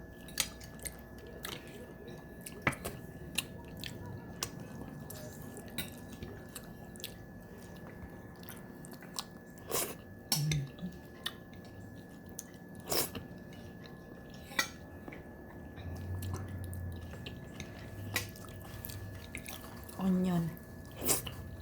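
Pork belly and rice being eaten at a mukbang meal, with soft, irregular close chewing and mouth sounds, a few brief clicks and clinks of utensils, and occasional quiet background noise.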